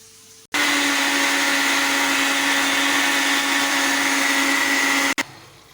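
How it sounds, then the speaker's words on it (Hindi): An electric mixer grinder blends yogurt and onions for a fish korma, switching on abruptly into a loud, steady high motor whine that runs about four and a half seconds before cutting off sharply. "हिते ही असांजो मिक्सर में असां मिक्स कंदासीं, बसरनि खे दही खे पीसींदासीं।"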